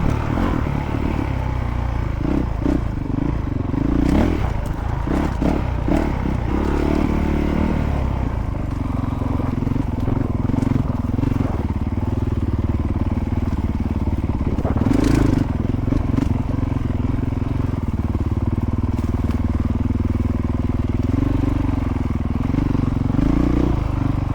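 A Honda CRF450RL dirt bike engine runs steadily while trail riding in a Western Massachusetts state forest, with a continuous loud drone and some throttle changes. Scrapes and clatter from the ride come through over the engine.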